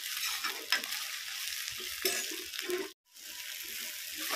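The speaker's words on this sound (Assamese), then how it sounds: "এতিয়া শাকখিনি ভাজি আছোঁ" Greens (saag) sizzle in a pan with a soft, steady hiss and light stirring, cut off briefly near the end before resuming.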